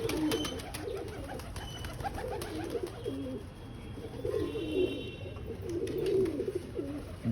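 Madras pigeons coo softly on a rooftop, their low rolling calls repeating throughout at moderate distance, with faint background noise and no talking.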